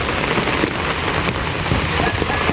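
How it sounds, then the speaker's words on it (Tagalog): Heavy rain pours steadily outdoors, a dense, loud hiss of drops drumming on surfaces that continues without a break. "Bali kagabi po ay sobrang lakas ng ulan dito"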